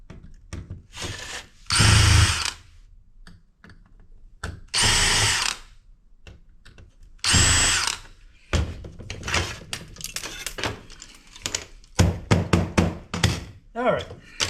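A power drill removes screws from a three-phase voltage monitor in three loud, close bursts of whirring, followed by shorter clicks and knocks of handling parts, with a person talking between the bursts.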